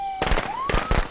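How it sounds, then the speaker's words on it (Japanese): Firecrackers thrown in the Friday the 13th video game crackle in two loud, close bursts of rapid pops over a steady electronic tone. "ちょっと爆竹投げとくわ"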